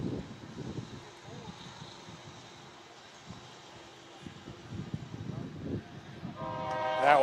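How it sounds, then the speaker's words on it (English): Train passing near a baseball game between Botkins and Anna, a low rumble under the play-by-play, with a horn sounding loudly near the end. "I couldn't hear because of the train"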